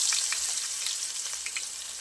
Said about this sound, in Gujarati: हवे झीणी समारेली एक डુંગળી छे ए उमेरी दઈએ।